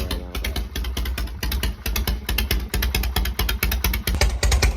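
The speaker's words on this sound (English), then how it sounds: "The idle's pretty low right now." A Harley-Davidson Shovelhead motorcycle engine idling low after its static timing was set, loud and close, with a lumpy, uneven rhythm of rapid exhaust pulses that lasts the whole time.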